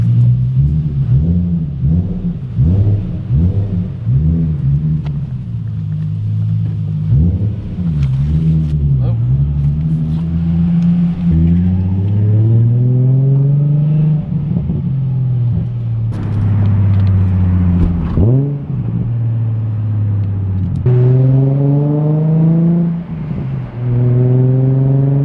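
A modified car with an aftermarket exhaust and parts from a Nissan 350Z rumbles steadily and loudly throughout, its deep engine note rising and falling through several revs and gear changes up close.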